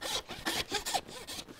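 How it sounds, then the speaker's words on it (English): Handsaw cutting through a pork shank bone, several quick rhythmic rasping strokes, close and fairly quiet. "Take my handsaw"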